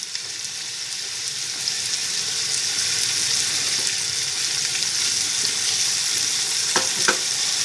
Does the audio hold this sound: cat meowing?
no